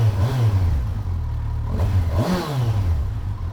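A 2024 Kawasaki Versys 1000 S motorcycle engine idles and revs up and down a few times, close by, with a throaty rising and falling whir.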